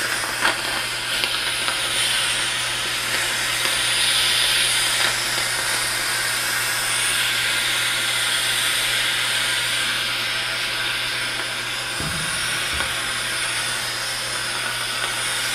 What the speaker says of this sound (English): I'm going to steam them one at a time and get them hot